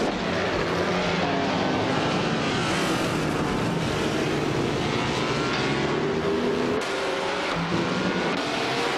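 Vintage 1950 Formula 1 race cars in a racing video game on the twisting Charade track, engines droning and revving steadily at close range with no pauses.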